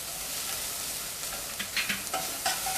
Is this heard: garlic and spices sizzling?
yes